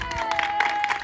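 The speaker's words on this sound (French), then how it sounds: "Vous pouvez vous applaudir, les gars." A championship-winning team of players applauds briefly at an awards ceremony, a quick burst of clapping mixed with voices.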